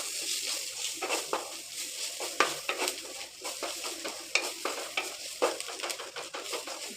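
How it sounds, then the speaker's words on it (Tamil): Capsicum and grated coconut sautéing in a pan for a stir-fried side dish: a continuous sizzle broken by repeated rhythmic scraping and stirring strokes, close and fairly loud, with no talking. "இப்போ இது கூட துருவின தேங்காவை சேர்த்து நல்லா வதக்கி விட்டுக்கலாம்."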